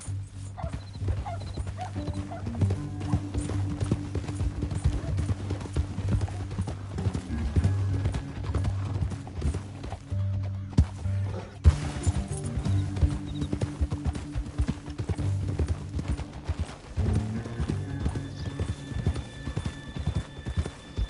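Horses gallop in the Red Dead Redemption 2 video game, their hoofbeats drumming in a fast, continuous rhythm under game music, with a dog barking at points and a horse whinnying briefly.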